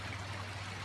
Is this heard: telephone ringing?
no